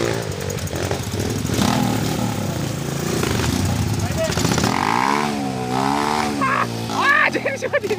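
A trail motorcycle revs loudly up a steep river trail climb, its engine note rising and falling nearby, with someone talking over the noise.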